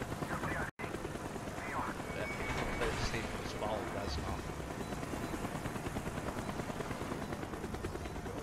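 Helicopter rotor thumping steadily in a Call of Duty Black Ops game scene, a loud continuous chop beneath spoken dialogue and game effects.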